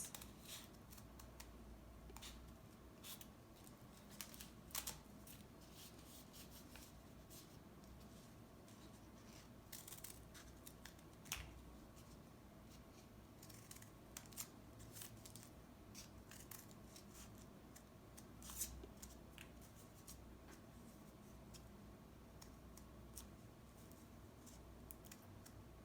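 Scissors snip through folded paper while cutting a paper snowflake, a steady run of small crisp cuts and rustles close by for the whole stretch, fairly quiet with no talking.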